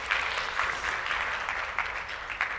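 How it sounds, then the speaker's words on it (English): Audience applause at a story hour talk, a steady wash of clapping from a crowd that holds at an even level throughout with no voices over it. "we're going to keep the round of applause going for yourself"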